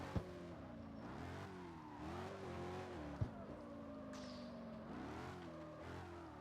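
An all-wheel-drive car drifting in the street racing game CarX Street, its engine droning and shifting pitch steadily throughout with brief sharp clicks, loud and continuous without speech.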